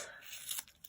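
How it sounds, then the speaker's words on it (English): Scissors snip through a rubber stamp sheet at close range, a short crisp tearing cut with a couple of small sharp clips near the end, quiet overall. "I'll use my scissors to just cut it apart"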